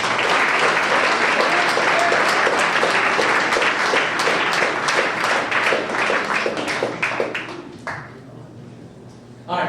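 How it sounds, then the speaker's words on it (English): A banquet crowd at a high school sports awards night gives a sustained, dense round of applause that gradually thins and fades near the end, with a murmur of voices underneath. "So let's give Cam a big round of applause."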